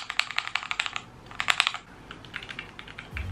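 Fast typing on a HyperX keyboard fitted with Cherry MX Silver switches: bursts of crisp, close key clacks in quick rhythm, pausing briefly, then resuming more sparsely against a steady room hiss.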